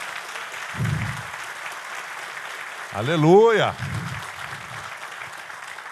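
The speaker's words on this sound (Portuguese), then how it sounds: "dá uma forte salva de palmas ao Senhor Jesus Cristo" Church congregation applauding during a sermon, a steady wash of clapping running underneath while someone shouts an exclamation in the middle.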